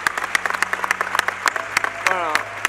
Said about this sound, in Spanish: yo te quiero seguir aplaudiendo